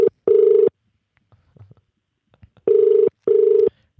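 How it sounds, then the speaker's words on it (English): A telephone ringing tone sounds in repeated double bursts, each pair of steady electronic purrs followed by a pause, clear and loud with no talk. "we just wait for the old dial tone to kick in"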